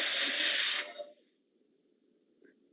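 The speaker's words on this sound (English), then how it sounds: "inhale through the mouth with a hissing sound like this." Hissing breath drawn in through the mouth with the teeth biting the tongue, one steady airy inhale lasting about a second, close and fairly loud, then silence.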